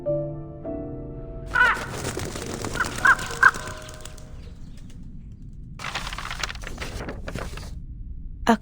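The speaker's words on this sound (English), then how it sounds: "A crow." Crow caws in the video game Reverse 1999, a few harsh calls rising from about a second and a half in over a faint musical backdrop, with soft ambient layers continuing after.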